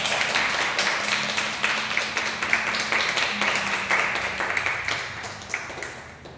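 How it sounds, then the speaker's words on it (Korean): A church congregation at a Friday prayer meeting applauds to welcome the preacher: dense, sustained clapping from many hands fills the room steadily throughout, with no talking over it. "강도사님 우리 모실 때 큰 박수로 우리 함께 초청할까요?"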